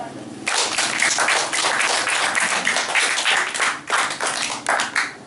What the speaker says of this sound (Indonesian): tepuk tangan untuk Ada